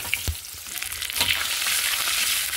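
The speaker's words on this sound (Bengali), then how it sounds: "লঙ্কাগুলো একটু হালকা লাল লাল ভেজে নিয়েছি।" Slit green chillies and nigella seeds frying in oil, a steady close sizzle punctuated by a couple of sharp stirring knocks against the pan.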